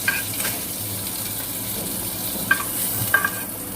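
Fish frying in oil in a pan on a home stove, a steady close sizzle running throughout with a few sharp clinks of a utensil near the end.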